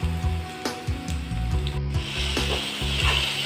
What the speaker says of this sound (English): Now mix it well in a low flame until it turns a bit red.